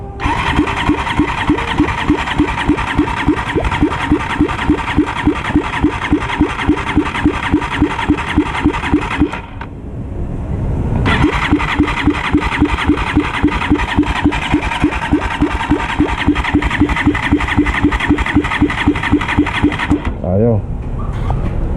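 Honda TMX motorcycle with an engine fault being kick-cranked, rapid rhythmic starter chugging in two long bursts separated by a short pause, loud and close with voices talking nearby.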